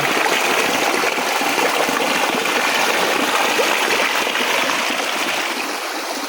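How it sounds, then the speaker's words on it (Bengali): A waterfall stream babbling and rushing loudly nearby, a dense continuous gurgle of flowing water that holds steady for several seconds and eases slightly at the end, with no talking. "দেখেন পানির কেমন কলকল শব্দ।"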